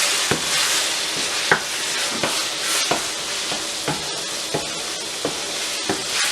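Minced meat and two medium tomatoes are stirred in a pot, a spoon knocking the pot in steady strokes about every 0.6 seconds over a constant sizzling hiss.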